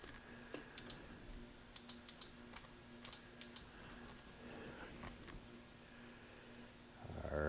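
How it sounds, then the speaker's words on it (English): A relay on a 1993 Yamaha Riva 125 scooter with a no-start problem, clicking faintly in a quick irregular run of light ticks under a steady hum, ending in a louder rustle. "Get nothing but a click from a relay."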